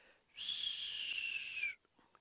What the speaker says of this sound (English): the raptors typically have that high pitched call